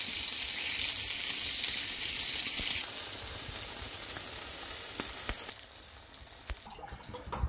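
Oil sizzling loudly under a rice and ragi roti on a hot pan, a continuous bright hiss that eases slightly and then cuts off near the end.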